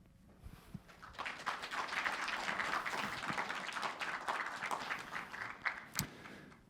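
Members at an inaugural association meeting applaud together, a dense clapping that swells, holds steady for several seconds, then thins out with a few scattered final claps.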